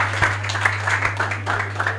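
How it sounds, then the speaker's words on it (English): Scattered hand clapping from a church congregation, uneven and moderately loud, with a steady low hum running underneath. "Clap for Jesus."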